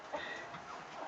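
Chickens clucking as they eat kitchen scraps on a farm, a soft continuous cluster of hen clucks and murmurs at moderate distance, with no talk over them.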